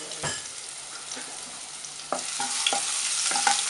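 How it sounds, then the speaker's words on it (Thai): Oil sizzles steadily in a hot wok with garlic and pepper stir-frying while a utensil scrapes and taps the metal now and then, growing a little louder toward the end. "ก็ผัดให้หอมฉุยเลยนะคะ"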